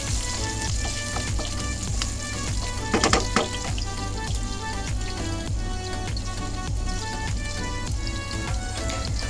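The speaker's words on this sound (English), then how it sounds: "I want my beans to be, fried nicely so that it's a little crispy" Beans frying crisp in a pan, a dense continuous sizzle with scattered crackles and a brief scraping stir near the middle, loud and close throughout with no talk.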